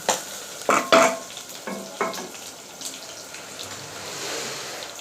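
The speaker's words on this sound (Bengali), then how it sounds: "তেল পেঁয়াজ দিয়ে ভালো করে কষে নিচ্ছি" Onion and spices fry in oil in a pan, a few scraping stirs and clanks up front giving way to a soft, steady sizzle close by.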